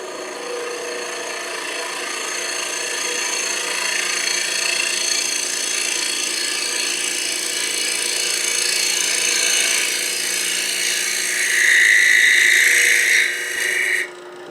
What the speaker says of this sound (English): I'll come in here with a conventional scraper with a little bit of a burr on it.